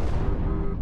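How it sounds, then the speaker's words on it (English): Cannon firing in the Brick Rigs video game: a single heavy, muffled boom with a rumbling tail, loud and close, with no speech over it. "two cannon style firing rounds that can be shot"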